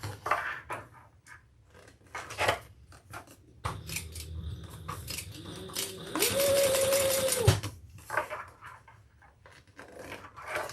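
A sewing machine stitches a tote bag, a brief whirring run of rapid needle strokes that rises in pitch and stops, surrounded by close snips, fabric rustle and handling noises.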